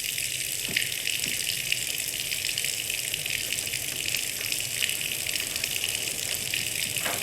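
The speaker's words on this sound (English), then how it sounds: "Do you guys see water?" Continuous loud gushing water in the horror video game Scarlet Hollow, like a steady torrent pouring in, holding constant throughout with no talking.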